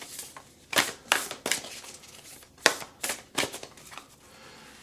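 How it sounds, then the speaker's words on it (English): Oracle cards from a Whispers of Love deck are shuffled close up, a series of quick, crisp riffling bursts separated by short pauses, fairly quiet with no talking. "Let's go ahead and shuffle."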